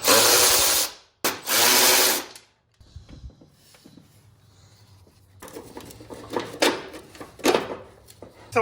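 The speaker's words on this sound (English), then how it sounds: "I am going to undo these bolts and pull the whole bracket up" A power tool spins in two loud, close bursts while undoing bolts on the power steering bracket of a BMW E39 540i, followed by softer metallic clinks and rattles of tools and parts.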